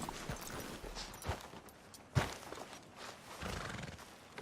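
Horse sounds in Red Dead Redemption 2 with snorting and a sharp whinny-like burst midway, over steady ambient game noise and clopping movement.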